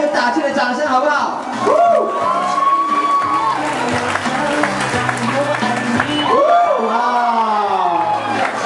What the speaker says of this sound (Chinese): 来一点加油打气的掌声好不好？